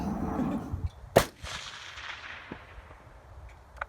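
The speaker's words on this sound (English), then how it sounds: "we recorded most of the guns, took the sounds exactly from the guns we have in game" Real firearm fired during a 2016 gun recording session for the game Sniper Ghost Warrior 3, giving one sharp, loud report with a long fading tail, followed by fainter distant cracks and rumble, no talk.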